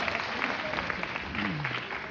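Audience applause at a Hindi poetry recital, a dense steady patter of many hands clapping throughout the short stretch, with a voice faintly audible underneath.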